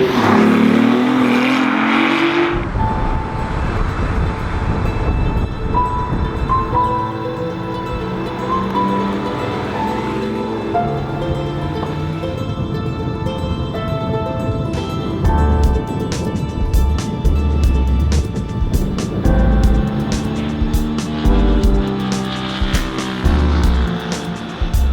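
A BMW i8 hybrid sports car accelerating hard on road and track, its engine note rising and falling through several revving pulls and shifts, loud and close throughout with tire noise underneath.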